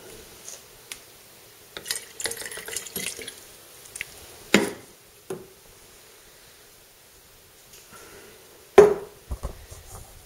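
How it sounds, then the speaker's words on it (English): Distilled white vinegar poured over food in a container, heard as scattered splashes and drips with a few sharper knocks, close and intermittent, and no talking. "Now I'm going to cover them with distilled white vinegar from White House."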